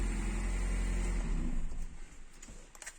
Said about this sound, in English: start the vehicle again